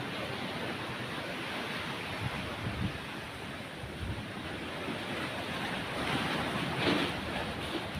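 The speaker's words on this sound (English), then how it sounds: "Hear the waves. Hear the waves. Let me hear the waves." Ocean waves break and wash continuously onto a beach on a breezy day, a steady roar of surf swelling slightly near the end, with wind buffeting the microphone.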